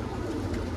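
Punjabi pigeons cooing in a short burst of low, soft, throaty coos, close by and steady, with no voices.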